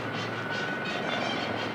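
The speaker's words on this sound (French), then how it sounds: "Défilé composé de Gazelle SA-341 équipés d'un canon." Gazelle SA-341 military helicopters armed with cannon fly past in formation during the 14 July 1995 Bastille Day military parade, a steady broadband rotor and engine roar sustained throughout.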